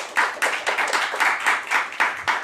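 A church congregation claps hands as an offering of praise, a steady run of dense, loud group claps with regular swells and no talking.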